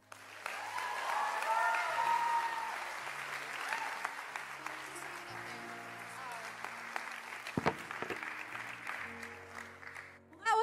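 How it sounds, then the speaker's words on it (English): A church congregation claps in a long, even round of applause that swells and gradually thins, with faint murmuring and a few short voices under it. "Can we give them one more round of applause as they head back to their seats?"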